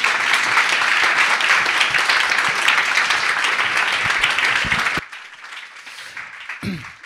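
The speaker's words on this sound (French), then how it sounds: "on peut peut-être les applaudir" An audience at a church training gathering applauds two speakers, a dense, loud, sustained round that cuts off abruptly and gives way to a much quieter room with a few stray sounds.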